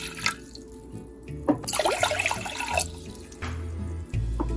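Water runs and splashes into a cooking pot in a steady stream for a couple of seconds, with brief clinks and kitchen noise around it.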